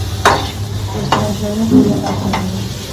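Potatoes fry in a pan for lunch, a close crackling sizzle broken by a few sharp stirring knocks, with faint background voices.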